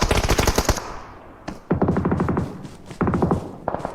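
Rapid bursts of automatic gunfire in a shooter video game, loud and close, with three or four separate volleys broken by short pauses.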